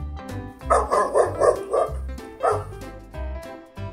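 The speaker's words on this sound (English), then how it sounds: "Dog." A dog barks in a quick run of four or five close, loud barks, then one more bark after a short pause, heard alone without talk.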